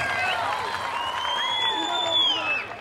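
Applause from an audience at a school event at Riverview School in Talma, Panchagarh: dense, steady clapping fills the whole stretch at moderate loudness, with some crowd voices and faint tonal sounds mixed in.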